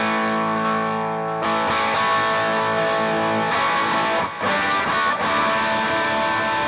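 An electric guitar runs through analog overdrive pedals in the FX loop of a Line 6 POD Go, with two extra drives switched on and reverb added. It plays loud, sustained distorted chords and notes for several seconds, with no talking.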